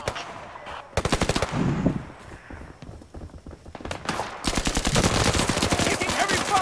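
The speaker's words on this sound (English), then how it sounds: "Taking heavy fire!" Heavy automatic gunfire in the Zero Caliber co-op shooter video game: rapid machine-gun bursts crackle loud and close, pausing briefly before a long sustained volley, with faint radio-style chatter in the gaps.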